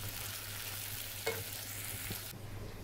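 Prawns marinated with salt, turmeric and chili sizzle steadily in a hot pan, a soft continuous hiss with a small clack of a utensil, close and moderately quiet.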